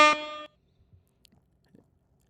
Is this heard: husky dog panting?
no